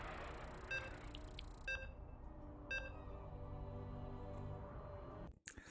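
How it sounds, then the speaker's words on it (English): Electronic beeps during a StarCraft tournament broadcast: a few short, evenly spaced tones over a low steady hum, followed by a faint rustle near the end. "As you can hear the beeps."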